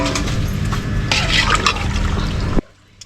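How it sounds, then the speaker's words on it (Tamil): Water poured steadily into a biryani cooking pot over a village wood-fired stove, a loud continuous splashing gush that stops abruptly near the end. "சமையலுக்கு தேவையான தண்ணி இதை கோல் வரைக்குமே ஊற்றணும்"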